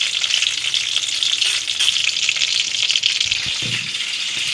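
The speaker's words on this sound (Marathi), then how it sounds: "कढीपत्ता आपण तुपामध्ये रोस्ट करून घेऊ" Curry leaves roast in hot ghee with a loud, continuous crackling sizzle close by, broken by brief stirring sounds and no talk.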